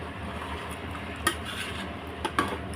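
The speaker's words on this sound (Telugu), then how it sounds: "లో ఫ్లేమ్ పెట్టేసి కలపాలి." Bagara rice being stirred in a pot over a low flame, with soft scraping and a few sharp clinks of a metal spoon against the pot above steady background noise.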